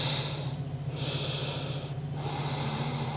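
Slow, deep breaths through the nose during a seated forward bend in yoga, three soft airy breaths, close and quiet with no talking.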